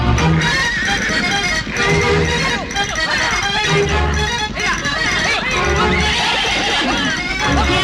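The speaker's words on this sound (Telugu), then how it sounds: "ఈ అడవి గుర్రం, దాన్ని పట్టడం వీళ్ళ తరమా?" A wild horse neighs and whinnies in a film scene, set against dense, loud background music and sound effects, with hoof clip-clop and other noise mixed throughout.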